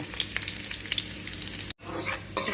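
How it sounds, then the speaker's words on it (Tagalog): Garlic dropped into hot oil, frying with a bright, crackling sizzle and stirring, close and loud, broken by a brief silent gap before the sizzle resumes. "Guys, kung mainit na yung oil guys, ilagay natin una yung bawang guys."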